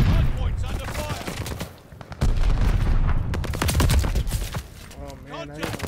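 Gunfire at the hardpoint on the Berlin map in Call of Duty: rapid, loud automatic bursts and sharp shots in quick succession, with game announcer and player voices talking over the shooting.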